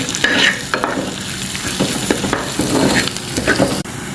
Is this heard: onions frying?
yes